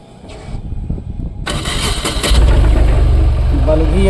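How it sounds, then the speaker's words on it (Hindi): A Tata Ace Gold BS6 petrol mini truck engine cranks briefly, then catches and settles into a loud, steady idle. "स्टार्ट करो गाड़ी को।"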